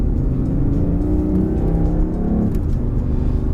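A BMW i8 plug-in hybrid with a 1.5-litre turbocharged three-cylinder engine cruising in comfort mode, giving a steady low engine drone and road rumble from inside the cabin, even and unbroken with no voices.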